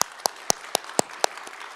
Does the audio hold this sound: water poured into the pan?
no